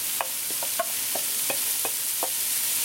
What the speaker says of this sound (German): Und dann gebe ich zwei gehackte Zwiebeln dazu.